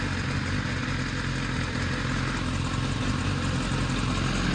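A BMW S1000RR motorcycle engine idles steadily and close by, a dense, even rumble holding at one level throughout with no voices.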